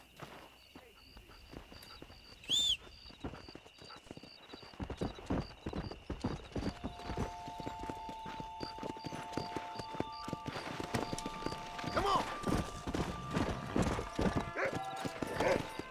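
Horse hooves clip-clop steadily in Red Dead Redemption, a continuous rhythmic trot with a whinny early on and game tones in the background, while someone talks over it.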